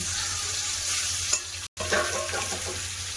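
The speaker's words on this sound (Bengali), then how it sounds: "বাকি মাছগুলো এখন ভেজে নেব" Rohu fish pieces frying in oil in a pan, a continuous close sizzle with stirring, briefly cut to silence midway before resuming.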